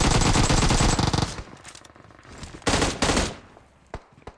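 AKM assault rifle fire in Battlegrounds Mobile: a loud sustained automatic burst for over a second, then a pause and two shorter bursts, followed by a couple of single sharp shots, with no talking.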